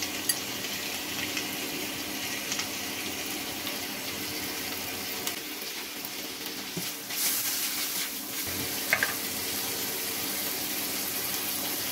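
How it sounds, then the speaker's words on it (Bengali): Shrimp fry in a pan with chopped onions, giving a steady, dense sizzle that holds for the whole stretch, with a few faint clinks and stirring sounds and no talking. "7-8টা পেঁয়াজ কেটে রেখেছি। এখন কতগুলা চিংড়ি মাছ দিয়ে দিলাম।"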